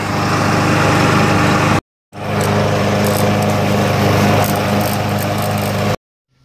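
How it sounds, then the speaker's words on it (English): Steady, loud engine drone of a lawn mower cutting a front yard, running continuously close by with two brief dropouts and no talking. "I got to squeeze in a little mowing here before I get going."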